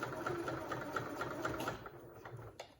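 A sewing machine stitches fabric for a pleated advent calendar, a fast steady mechanical chatter that runs evenly up close and slows and stops near the end.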